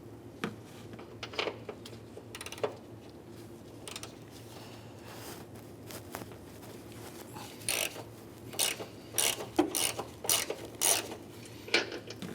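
A ratchet wrench breaks loose the 15mm top strut bolts on a 2007-2013 Acura MDX, giving quiet clicking and scraping mechanical bursts that grow busier and more rapid toward the end.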